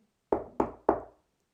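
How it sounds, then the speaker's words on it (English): Three firm knocks on a door, evenly spaced and close, each a sharp hollow thud with a short decay, alone in a quiet room. "She called, and knocked again, a little harder this time."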